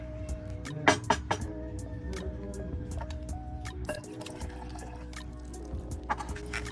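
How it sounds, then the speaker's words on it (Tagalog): A glass of water is poured into a mixing jar while preparing an organic insect attractant, giving close splashing and trickling with a few sharp knocks and drips, along with some low background hum. "Una ay magsukat tayo ng isang basong tubig at ilagay natin doon sa ating paghaluan na jar."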